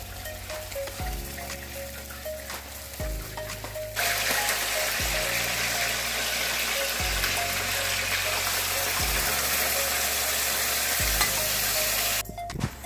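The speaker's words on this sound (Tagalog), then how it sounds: "ready na iprito yung mga pork chop. Kumuha na ako ng kawali at mantika at isa-isa ko na siyang nilagay" Pork chops frying in hot oil in a pan, a loud steady sizzle that swells sharply after a few seconds and holds, with periodic low thumps and clatter nearby.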